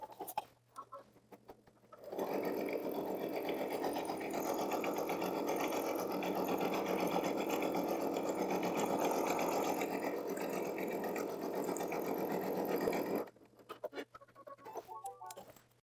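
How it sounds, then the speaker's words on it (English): An embroidery machine stitches the final color of an in-the-hoop design, a steady rapid needle chatter running continuously for about eleven seconds at close range, with quieter handling noises before and after. "now we're ready to sew that last color"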